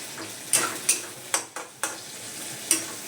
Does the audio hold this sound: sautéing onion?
yes